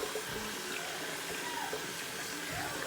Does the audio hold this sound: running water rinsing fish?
yes